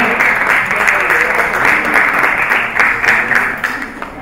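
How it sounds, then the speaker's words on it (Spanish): Loud, sustained applause from a large crowd at a university event, dense and continuous clapping throughout. "Un fuerte aplauso al programa de Derecho."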